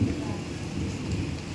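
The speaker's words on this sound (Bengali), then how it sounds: "আর এখন বৃষ্টি হচ্ছে, আর বিদ্যুৎ চমকাচ্ছে দেখো কীভাবে।" Heavy rain during a thunderstorm pours down steadily, with a dense wash of falling water and a deep, continuous low rumble of thunder throughout the short stretch.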